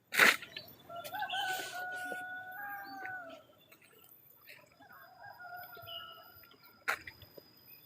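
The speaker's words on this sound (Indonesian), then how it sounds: "Suara burung asik banget ini." Birds call in a forest, the Pengamun Amun woods, giving drawn-out tonal cries that rise and fall over several seconds. A sharp knock opens the sequence and another comes near the end, against a quiet background.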